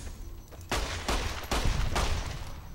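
Gunfire in Fallout New Vegas while sniping giant ants: several heavy, loud shots in quick succession, each with a broad blast and a lingering tail, over low background noise.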